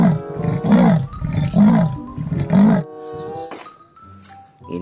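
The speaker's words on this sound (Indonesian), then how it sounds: "Ini raja hutan alias singa." A lion in the video game Jurassic World Evolution 2 gives three loud, drawn-out roars in a regular rhythm, followed by quieter growls and game ambience.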